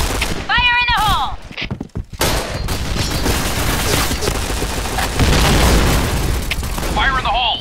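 Grenade blasts and gunfire in a team shooter video game, loud booming explosions and rapid shots throughout, with a brief dip to near silence, synthetic chirps and a game voice heard over the din.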